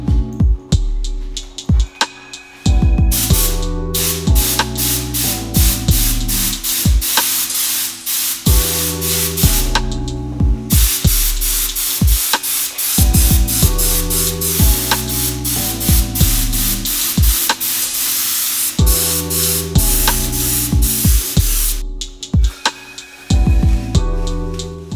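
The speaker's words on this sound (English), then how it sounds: "let's spray the deep black on the frame." Deep black paint sprayed onto a carbon Specialized bike frame, loud close aerosol bursts in repeated long hisses broken by short pauses, no talking.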